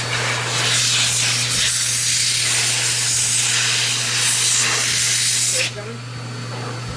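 A small pet grooming dryer blasts a steady, loud hiss of air over dog grooming tools just lifted from a Barbicide ultrasonic cleaner, cutting off near the end as a brief spoken phrase passes underneath.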